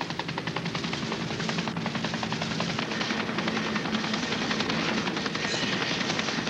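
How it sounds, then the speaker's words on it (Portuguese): Helicopter rotors beating loud and close with steady rapid chopping over a continuous engine roar, arriving from the air at sea near an island in a dubbed thriller; no talk. "O helicóptero chegou."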